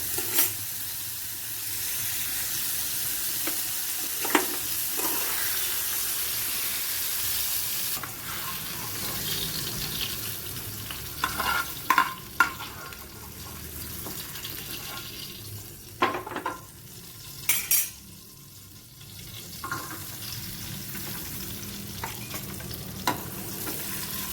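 Green chillies fry in oil in a pan for ridge gourd chutney, with a long, steady sizzle, occasional stirring clatters and brief bursts of louder scraping and knocks.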